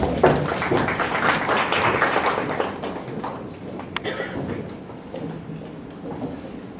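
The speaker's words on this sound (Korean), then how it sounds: "다시 한번 박수로 모셔볼게요." Audience applause at a startup venture forum pitch event, a steady wash of clapping that is strongest at first, then thins and tails off toward the end.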